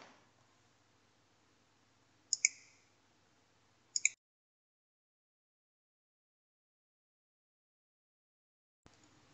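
Computer mouse on a Windows PC: two pairs of sharp, faint clicks spaced a couple of seconds apart in a quiet room, followed by near silence.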